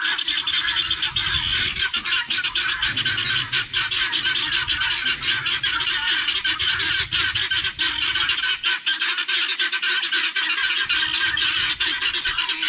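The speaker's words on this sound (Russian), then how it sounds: "Вот наши крикухи." Flock of broiler guinea fowl calling loudly and nonstop, a harsh dense chorus of squawks and honking cries, close and overwhelming, with no talk.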